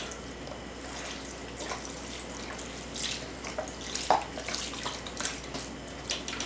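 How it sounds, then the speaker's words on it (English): Water runs quietly and steadily into a cooking pot that already holds chicken broth and cleaned, torn greens, a faint continuous pouring with a few small splashes and clinks. "And some water."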